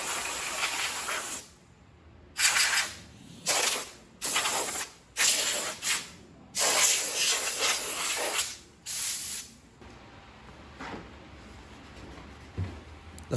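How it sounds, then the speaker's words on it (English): Bursts of compressed air blast dust out of a dirty desktop PC, about seven loud, sharp hisses separated by short pauses, close to the mic, with a quieter stretch at the end. "Then, I'm going to blow out the PC again with even more compressed air."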